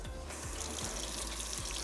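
Running tap water splashes steadily onto the nonstick grill plate of a Ninja Foodi Smart XL Grill being rinsed in a kitchen sink, a continuous close, fairly loud hissing flow with small shifting splashes and no speech.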